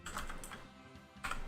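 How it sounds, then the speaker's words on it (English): A computer keyboard clacks close by in quick bursts of sharp keystrokes, a short flurry at the start, a brief lull, then another cluster, over a quiet hum. "I hope you guys enjoy the keyboard clacking"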